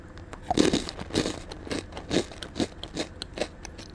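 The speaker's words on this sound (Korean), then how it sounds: "단백질 볼 같은 경우는 좀 묵직함이 있고 오독오독하고 바삭한 느낌이에요" Crunchy whole wheat protein balls chewed close to the mic, a steady run of about eight crisp bites and crunches with brief pauses between, no talking.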